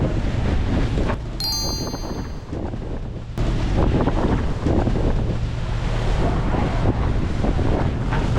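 Strong south wind roars across the open ocean while sailing from Tahiti toward Tonga ahead of a cold front, a loud continuous buffeting over rushing water, with a brief high tonal squeal near the start.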